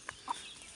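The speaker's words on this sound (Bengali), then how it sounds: "দেখছেন মুরগির বাচ্চা" Two quick, faint chirps from chicken chicks, close together and brief, with a soft background hiss.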